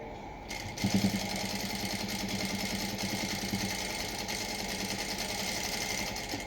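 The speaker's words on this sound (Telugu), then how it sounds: "అక్కడ లాక్ స్టిచ్ అనేది వేసుకోవాలి మనం." A sewing machine runs steadily while stitching a lock stitch on a plain blouse, a continuous mechanical whir starting after a brief pause and holding even through to the end, with no talk.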